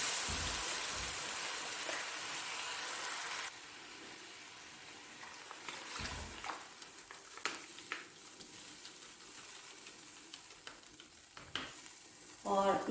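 Milk poured into golden-fried semolina and desi ghee for halwa: a loud hiss and sizzle that suddenly drops to a softer bubbling, with scattered stirring clinks and a brief burst of frying at the end.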